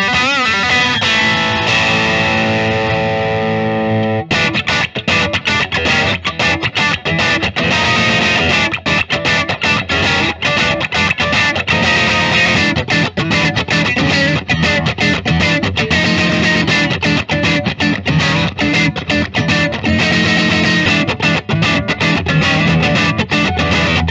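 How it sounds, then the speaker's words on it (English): A 2021 Fender 51 Stratocaster electric guitar played through its bridge pickup with heavy distortion, loud and continuous riffing with sustained chords at first, then dense chugging strummed passages, with no voice. "I'm plenty happy just with that bridge pickup in this guitar."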